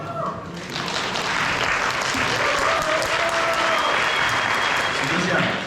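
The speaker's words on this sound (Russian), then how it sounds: "Друзья, вообще хочу аплодисменты эти посвящены вам." Sustained audience applause at a film screening in a community hall, steady dense clapping throughout with a voice speaking over it near the start.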